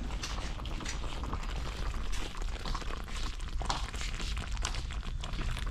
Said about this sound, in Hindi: इसका पानी देखिए हम इसमें डाल दे रहे हैं।